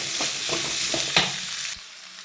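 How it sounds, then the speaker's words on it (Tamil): Potatoes fry in oil with a bright sizzle as they are stirred, several scraping strokes in quick succession before the sound cuts off abruptly near the end. "பதத்துக்கு நமக்கு எண்ணெயில் அப்படி நல்லா வதங்குது பாருங்கள்"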